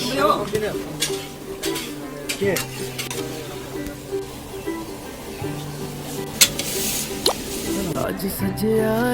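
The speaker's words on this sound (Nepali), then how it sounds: "अब चाहिँ बिहाको टेस्टी खाना पाक्दैछ" Mutton curry being cooked in large quantity for a wedding reception, with stirring, sizzling and wet squishing from the pot alongside clanks of cookware, while a person talks over the kitchen noise.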